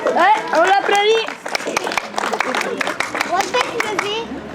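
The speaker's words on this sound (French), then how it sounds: "on l'applaudit" A small group of people on a visit to the Château de Langeais claps, with scattered sharp claps starting after loud nearby talking and continuing unevenly while voices carry on.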